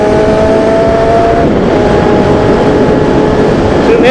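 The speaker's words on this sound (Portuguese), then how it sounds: "Escuta esse motor, escuta!" A Kawasaki Z750 motorcycle engine pulls hard down a straight road, a loud continuous roar with rising and shifting engine tones, drowned in heavy wind rush for the whole stretch.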